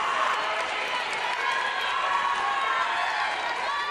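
A crowd at the 2016 ACC women's sabre fencing championship final roars steadily, a sustained loud wash of cheering and shouting from teammates that holds without a break, with voices talking over it.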